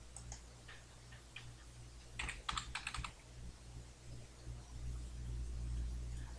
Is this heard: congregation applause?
no